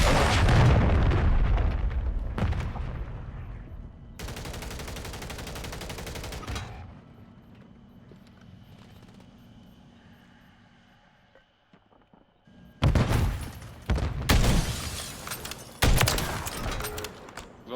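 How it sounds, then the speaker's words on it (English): Cruise missile strikes in a video game send heavy broadband blasts in bursts, loud booms with rumbling tails, a quieter lull in the middle, then several sharp explosive hits crowding the end. "Hostiles launched a cruise missile."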